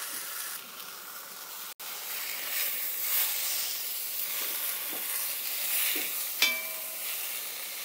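Pork for carnitas browns in a hot pan on high heat, giving a steady, close, crackling sizzle with a few brief clinks and scrapes from stirring or flipping.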